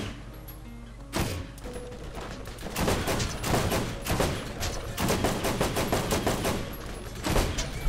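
Rapid gunshots crack out in the Borderlands video game, first a single sharp shot, then dense, loud bursts of automatic fire that continue almost without pause.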